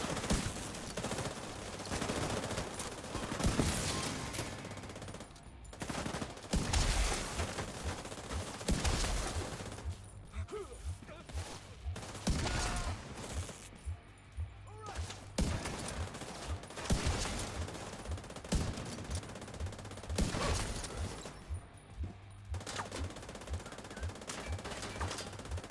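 Sustained suppressive gunfire in a video game, with long bursts of rapid automatic shots and fusillades rolling on and off over nearly half a minute, loud and close with brief gaps between volleys.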